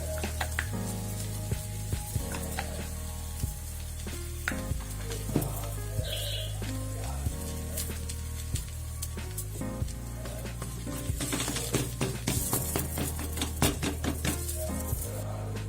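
Podi dosa fries on a hot pan with oil or ghee, a steady close sizzle layered with occasional clinks and scrapes of a spatula against the pan and no voices.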